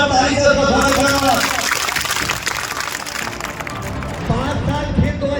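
Dense, loud crowd noise at a rally in Mohan Barodiya, a broad wash of many hands clapping that swells and dips across the whole stretch, with a voice briefly rising through it near the end.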